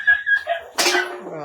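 A dog gives short yips and a whimpering bark, close and loud, mixed with human vocal sounds over about a second and a half.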